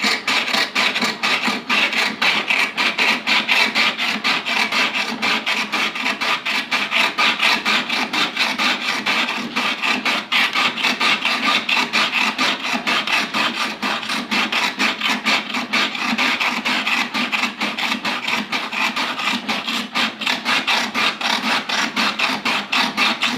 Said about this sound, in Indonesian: jadi yang pertama kita akan serut sisa es doger yang saya bekukan ya teman-teman